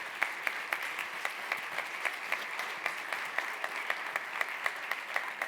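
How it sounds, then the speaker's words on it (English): Audience applause greets Davis Neable, UX Director at Manulife, as he is introduced at a talk on storytelling. Steady, moderate clapping from a room of listeners runs throughout, individual claps crisp over a continuous wash, with no voices. "let's have a big round of applause for Davis Neable"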